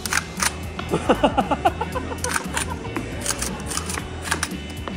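An airsoft AR15 CO2 gas blowback rifle being cycled by hand at an indoor airsoft market event, a quick run of sharp mechanical clacks and rattles of the bolt ejecting casings, amid background crowd chatter.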